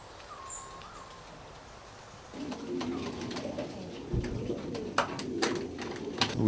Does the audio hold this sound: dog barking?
no